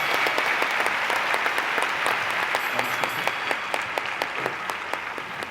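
A live audience applauds after a talk on drug legalization, steady dense clapping that fills the room throughout, with a slight fade toward the end.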